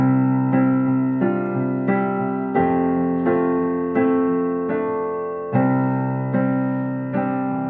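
Piano chords struck one after another at an even pace, each ringing and fading, the last ones broken up more like a rolled arpeggio.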